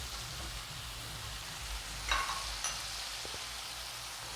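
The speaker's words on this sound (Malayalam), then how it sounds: "കുറച്ച് സമയം ഇങ്ങനെ ഇളക്കി അതിൻ്റെ ഒരു കളറ് മാറിക്കിട്ടുന്ന വരെ ഇങ്ങനെ ഇവിടെ" Liver being stirred in a frying pan, a soft, steady sizzle with a few faint scrapes and clinks of the spoon partway through.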